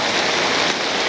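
A downpour in a Bangladeshi village fills the air with a thick, unbroken wash of falling water, loud and near, with no one speaking.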